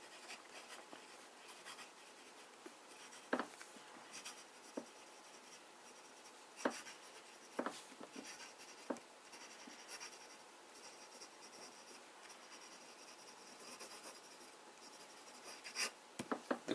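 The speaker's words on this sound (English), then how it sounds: "Let's start with a bit of fine writing," A Conway Stewart Edgcumbe fountain pen writing fine lines on paper, a faint continuous scratchy glide broken by small ticks and taps as the nib lifts and lands, quiet and close with no speech.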